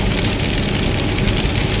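Steady rain noise inside a truck cab on the road at highway speed, with a dense wash of drops over a low engine and road rumble, constant and fairly loud throughout.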